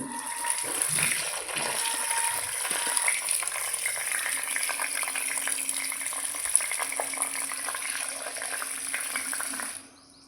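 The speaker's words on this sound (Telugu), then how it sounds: "ముందుగా కూరగాయలను శుభ్రంగా కడుక్కుందాం" Vegetables being washed in water: a steady rush of running water with sloshing and splashing, close and continuous, then it cuts off abruptly at the end.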